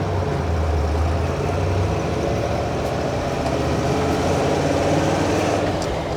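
A 1979 Jeep CJ7 engine pulling uphill in second gear, a steady low rumbling drone with road and wind noise, continuous and fairly loud from inside the vehicle.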